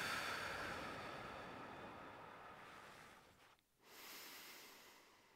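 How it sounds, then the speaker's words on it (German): During a calming breathing exercise, a deep, steady breath flows out slowly through the mouth, followed by a short pause and the next soft breath drawn in, close and quiet with no talking. "Noch ein paar Mal einatmen tief, ausatmen durch den Mund ruhig."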